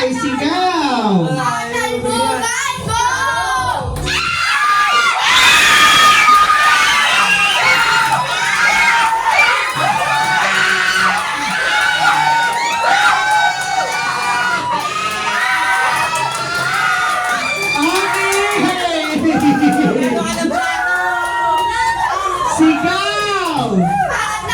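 Children and adults at a family New Year party yell together in a shouting contest, a dense, loud, sustained roar of overlapping voices and cheers lasting the whole stretch.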